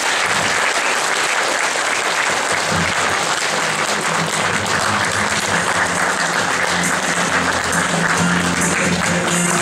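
Loud, steady applause from an audience at an academy event, a dense unbroken wash of clapping that fills the whole stretch with no speech over it.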